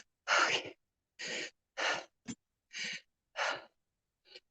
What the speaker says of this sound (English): Listening to me heavy breathe must be so entertaining.